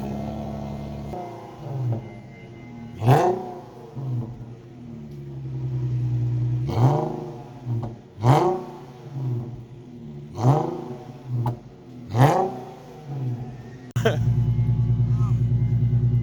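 A cold-started Audi S3 engine is blipped repeatedly: a steady idle broken by about five sharp revs, each rising and falling quickly, with a louder, rougher idle at the end. A voice is faintly present.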